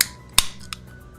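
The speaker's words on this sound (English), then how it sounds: "we're cracking open a can of Well Cheers right here and right now" A soda can of Well Cheers cracked open: a single sharp metallic snap of the tab, followed by a brief fizzing hiss and a faint second click, close and alone.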